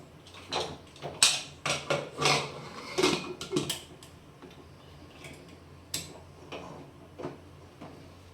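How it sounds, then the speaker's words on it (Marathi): A pressure cooker of soaked peas is set up in a home kitchen: a run of close metallic clanks and clicks from the pot and lid in quick clusters, then a quieter stretch with a few last knocks. "कुकर लावून घेऊयात"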